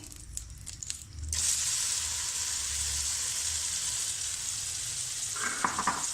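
Chicken pieces hit hot ghee in a pan and sizzle loudly and steadily, a bright hiss that starts suddenly after a few quiet kitchen clinks and goes on, with small bubbling pops near the end.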